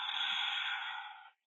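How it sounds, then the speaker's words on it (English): A single soft, steady exhale through the nose lasting over a second during a guided yoga breathing exercise, close and airy, tapering off quietly at the end. "exhale out through the nose."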